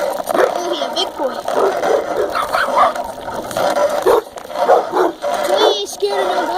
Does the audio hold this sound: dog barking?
yes